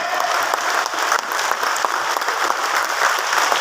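A political rally crowd gathered to protest the Waqf Act claps steadily, a dense, continuous wash of many hands at even loudness throughout, without any voices standing out.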